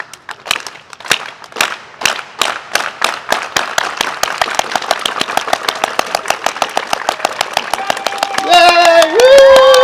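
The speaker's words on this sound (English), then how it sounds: "So let's do the unity clap first to give them positive energy." A crowd at a Garfield High School plaque unveiling claps in unison, the sharp claps starting slowly and speeding up into a rapid rhythm, then breaking into cheers and whoops at the end.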